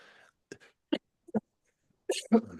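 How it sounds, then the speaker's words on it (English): A man coughs several times in short, sharp, quiet bursts, spaced across a couple of seconds, with a heavier double cough at the end. "I got this annoying cough won't go away"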